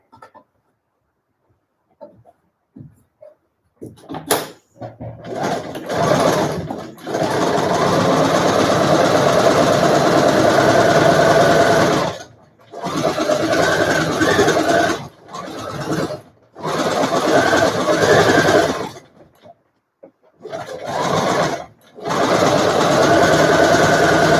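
Bursts of a sewing machine running as it hems the edge of a fabric mask: several loud, even whirring runs of a few seconds each, split by short stops, close by, with no one talking.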